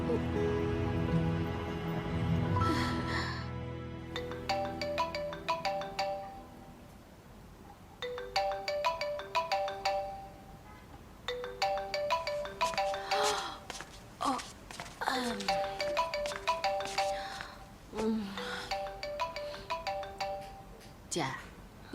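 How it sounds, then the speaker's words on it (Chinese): A mobile phone rings unanswered in a drama scene, its melodic ringtone repeating in regular bursts for about twenty seconds, fairly clear and close, with a breathy sound near the start. "你干嘛不接电话？"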